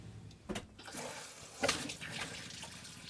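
Water runs through the hot water system of a motorhome, a steady low rush from a tap with a couple of louder splashy surges, fairly quiet and without speech.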